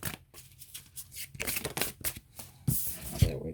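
Tarot cards being shuffled by hand, a run of quick papery riffles and soft slaps over a few seconds, close and fairly quiet.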